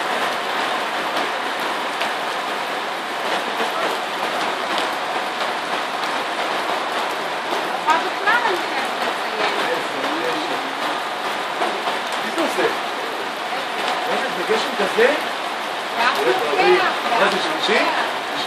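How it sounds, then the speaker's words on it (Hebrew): Pouring rain drums steadily during an extreme downhill ski run, a dense, close hiss with scattered droplet patter that swells toward the end, with some voice sounds mixed in. "גשם שוטף."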